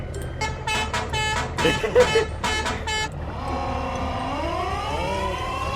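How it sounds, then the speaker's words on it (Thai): A vehicle siren in Farming Simulator 19 rises and wails in a long sweeping tone after a stretch of short repeated horn-like blasts, fairly loud over the game sound while people talk. "เสียงหวอรถใครวะเนี่ย"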